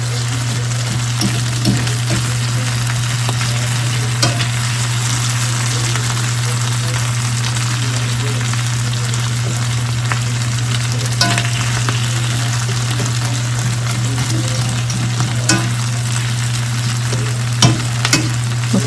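Ground meat fries loudly and steadily in a pan, a dense continuous sizzle with a low hum beneath and occasional stirring scrapes and taps, close up and without talk.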